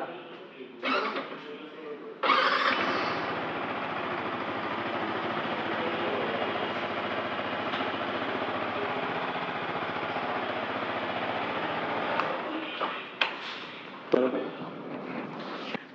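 A motorcycle is self-started and then idles steadily for about ten seconds as a close, continuous engine drone, with a few sharper blips near the start and end.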